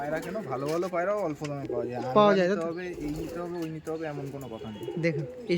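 Madras pigeons coo at a Bengali pigeon seller's home, their soft warbling calls running throughout beneath nearby people talking.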